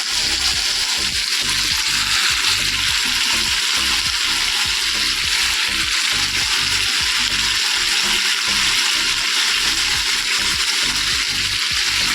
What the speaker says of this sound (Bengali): কালো জিরে দিয়ে দিচ্ছি কটা আর সাদা তেল দিয়ে আলুটা ভাজবো